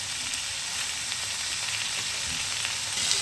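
Steady close sizzling of paneer cubes frying in butter in a pan, an even crackling hiss throughout with a slight lift at the end and no voices.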